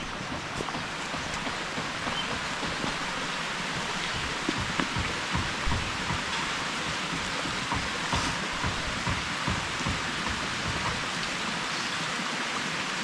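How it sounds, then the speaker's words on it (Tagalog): Rain pours steadily in a rural provincial setting, a dense, even hiss of drops on surfaces that holds constant and close throughout, with scattered heavier drips and no talking. "May ulan naman, oh."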